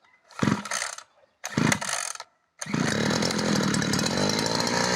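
A petrol brush cutter is pulled twice in short bursts, then catches and runs steadily, its small two-stroke engine droning loud and close.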